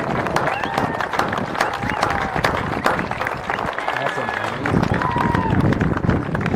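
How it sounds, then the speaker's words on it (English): Crowd at a high school track naming ceremony gives a sustained round of applause, dense outdoor clapping mixed with cheering and chatter. "Let's have a round of applause just for that"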